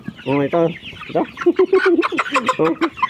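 Rhode Island Red rooster clucking in a series of close, loud bursts, with rising calls and short croaky notes coming in quick succession.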